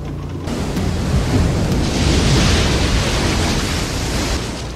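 In a film storm scene from The Truman Show, huge waves crash over a small sailing boat. A dense, roaring wash of water and wind swells and stays loud and close throughout, with no voices.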